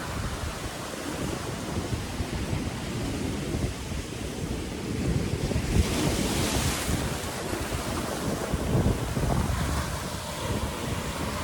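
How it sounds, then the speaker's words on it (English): Ocean surf rolls in at Hialeah Beach under heavy wind buffeting the microphone, a broad continuous roar with swelling wave crashes. "Hialeah Beach."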